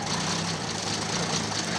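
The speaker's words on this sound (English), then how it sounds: "Listen to that hot cam." A clean green racing car with a hot cam idles steadily, its engine chugging evenly at close range, with a broad hiss over it and no talk.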